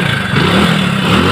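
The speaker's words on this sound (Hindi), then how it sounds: "अब एक बार स्टार्ट करके देखते हैं कि बाइक हमारा स्टार्ट होता है कि नहीं होता है।" A Hero Honda Splendor motorcycle, just fitted with a new spark plug while fixing an electrical current problem, runs loud and close with a steady, slightly rough idle and no talking.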